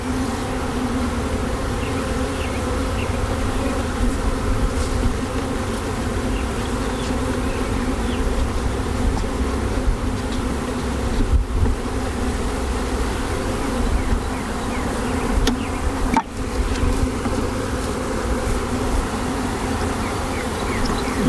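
Honey bees buzzing steadily around a newly installed nuc hive, a dense continuous drone of many insects close by with no talk.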